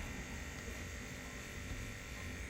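Nano brow permanent makeup tattoo machine implanting ink in hair strokes: a faint, steady electric buzz with a constant whine, unbroken for a couple of seconds.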